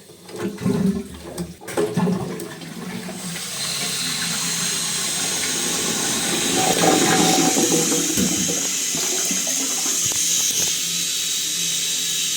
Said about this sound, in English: now let's see whether the flush works